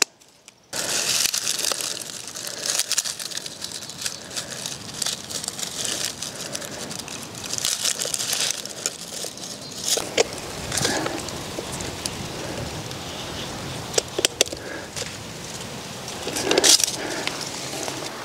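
A ground wire is cut and stripped at a ground rod for a tiny house inverter setup, giving close crinkly scraping and rustling with a few sharp snips and clicks scattered throughout, without talking.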